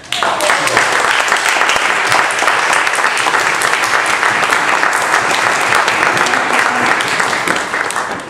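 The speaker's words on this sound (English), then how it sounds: "I want to give a round of applause" A gathered audience at a lecture gives a loud, sustained round of applause, a thick wash of clapping that stays level for about eight seconds before easing off.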